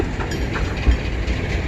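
CN M382 freight train rolling past in Kimball Township, a close, loud rumble of railcars with a steady rattling churn and a low thump near the middle.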